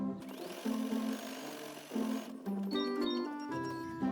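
An embroidery machine stitches felt onto stabilizer for a quiet book page, giving a steady mechanical whir with rhythmic tonal hums that shift pitch as the stitching changes, running close and continuous throughout.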